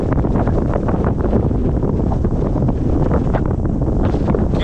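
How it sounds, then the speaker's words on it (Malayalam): Strong wind on a mountaintop at about 4,000 feet buffets the microphone, a loud continuous roar of wind noise that drowns out everything else. "ഭയങ്കര കാറ്റ്,"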